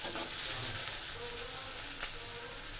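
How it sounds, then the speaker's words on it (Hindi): Onions fry in hot oil in a pan while they are cooked to light brown. A dense, continuous crackling sizzle sounds close and steady throughout, with a few faint stirring scrapes and no talk. "प्याज को हमें हल्का ब्राउन करना है।"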